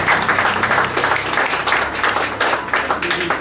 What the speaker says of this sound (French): c'est notre ami Kailash, on peut l'applaudir aussi.